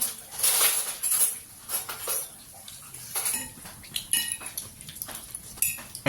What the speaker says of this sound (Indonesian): Ambil sendoknya, sendok masing-masing.